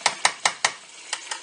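Spoon stirring a pot of sweet baked beans with brown sugar, six sharp clinks against the side, four quick ones, a pause, then two softer ones.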